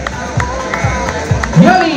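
Spectators at a popular cross-country race in Villa de Yuncos clap in a steady rhythm as runners arrive, under crowd murmur and a voice speaking nearby.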